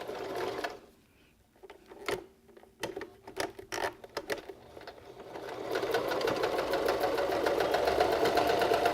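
A sewing machine stitches fabric for a beanie. A few scattered clicks come first, then the machine starts up and runs in a steady rapid chatter that builds in loudness and continues.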